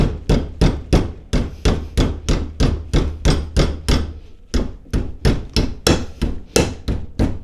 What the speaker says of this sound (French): et ensuite, avec un marteau,